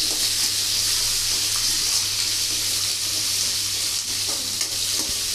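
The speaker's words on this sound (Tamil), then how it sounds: "இதை நல்லா வதக்கிக்கலாம்" Small shallot onions sauté in a pan of hot oil for a crab and chicken curry, a loud steady sizzle with stirring scrapes and no talk.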